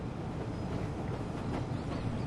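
A train rumbles with a steady low roar in the submarine game Uboat, a continuous close rolling noise with no one speaking.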